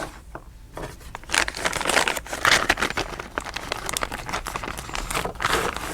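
Plastic bags crumple and crinkle in quick, uneven bursts of crackling at close range while bicycle repair tools are packed for a cycling trip.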